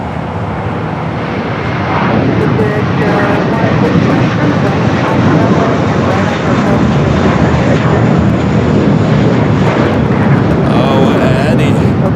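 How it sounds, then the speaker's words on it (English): Continuous heavy jet roar from a Volaris Airbus A321 taking off at LAX for Guadalajara, swelling louder after a couple of seconds and staying strong and close to the end. "Next takeoff, Volaris flight 1715 heading to Guadalajara. It's an A321."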